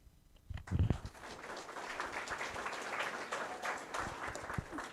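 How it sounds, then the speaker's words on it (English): Applause from the audience at a county legislative delegation meeting, a steady, moderately distant wash of many hands clapping that holds for several seconds, with a brief voice and thump near the start. "Got a lot of claps out of that."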